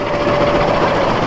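Balaka Commuter train running between Dhaka and Mymensingh, a steady loud rumble of wheels and carriages with a faint sustained whine, continuous throughout with no voices.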